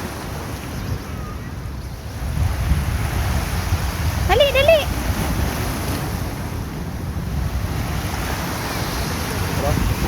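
Sea waves wash and roll at a park amid blustery wind buffeting the microphone, with a brief voice speaking midway.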